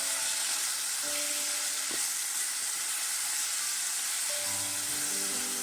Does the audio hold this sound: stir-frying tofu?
yes